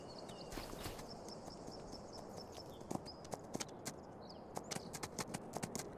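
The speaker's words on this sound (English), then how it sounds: "let's grab one of our horses, ride them around." Horse hooves clip-clop at a steady walking pace in Farming Simulator 25, sharp knocks over a constant background hum with faint chirping tones.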